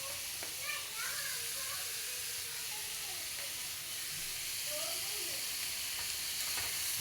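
Onions and mixed vegetables stir-frying in a little oil for Chinese noodles, a soft continuous sizzle with light stirring scrapes, faint and steady, with distant voices murmuring in the background.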